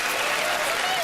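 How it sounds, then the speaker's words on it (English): Audience applause at a televised magic show, a steady dense wash of clapping filling the whole brief moment at moderate loudness. "Let's give her a big round of applause."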